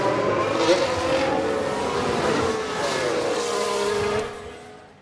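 An Aston Martin in the F1 Manager 22 racing game locks up a wheel, heard as a loud, continuous engine roar with tire scrubbing that holds steady for about four seconds before fading.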